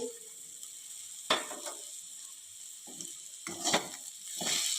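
Bitter gourd sautéing in oil in a pan: a soft, steady sizzle with a few bursts of stirring and scraping, fairly faint and close.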